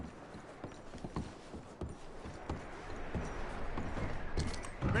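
Horses being packed produce irregular hoof clops and thuds, fairly close and moderately loud, with clinking gear and a rising background din toward the end.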